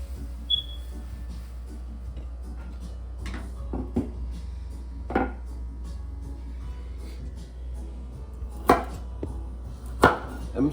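A knife chops a carrot on a board in a home kitchen while fish cooks in butter. A few sharp, separate cuts land irregularly over a steady low hum.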